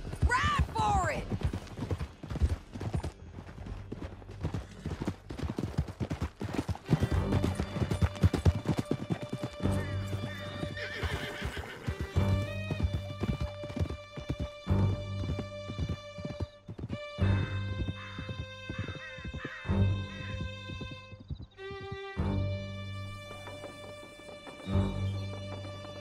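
Horses gallop hard through a canyon during a chase, hooves pounding in a fast, dense rhythm with neighs, under a loud orchestral score, with voices briefly shouting.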